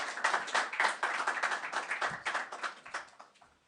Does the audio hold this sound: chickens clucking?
no